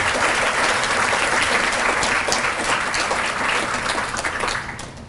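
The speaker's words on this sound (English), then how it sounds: "If you give her another round of applause for sharing her story" An audience at a fundraising dinner for an emergency shelter for abused women gives a loud round of applause, a thick wash of many hands clapping that gradually eases off near the end.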